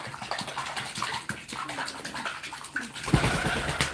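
Pigeon splashing in a tub of bath water, with scattered wet flicks and patters that build into a busier, louder burst of splashing near the end, heard close with faint room noise.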